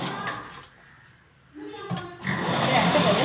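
A sewing machine runs in short bursts while stitching a wedding gown, a brief whir followed by a longer, louder run at close range, with a voice talking over the work.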